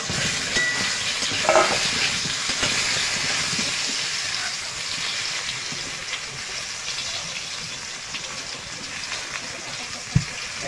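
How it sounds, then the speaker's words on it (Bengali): Pointed gourd pieces frying in hot oil give a steady, close broadband sizzle throughout, with a few brief clinks and one sharp knock near the end. "তেলটা গরম হয়ে গেছে, এবার পটলগুলো ভেজে নেব"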